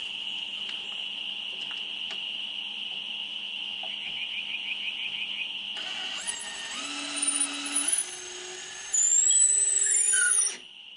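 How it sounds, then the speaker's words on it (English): A cordless drill whines at high pitch as it drives a bolt through the wood of a top bar hive, steady at first, then straining and changing pitch in short bursts near the end. "I'll use my cordless drill to drive it through."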